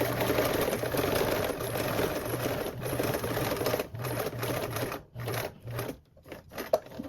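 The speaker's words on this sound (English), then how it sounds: "I'm going to sew with a 1/8 seam allowance" A sewing machine runs steadily, stitching a 1/8-inch seam near a D-ring in a close, continuous whirring hum that falters and stops in short bursts toward the end.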